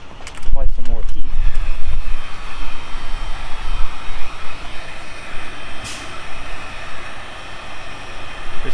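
A heat gun applying heat while modding a Hyundai Elantra N, heard as a loud, steady blowing roar with a brief clatter at the start and a voice mixed in.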